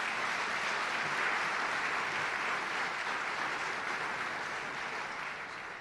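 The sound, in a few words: audience applause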